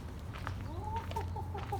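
Seventeen backyard farm chickens cluck softly at a distance, a few low rising calls over steady quiet outdoor background.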